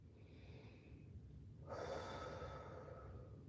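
One deep breath, a long close inhalation that swells partway through, quiet and hissy against a hushed room with nobody talking.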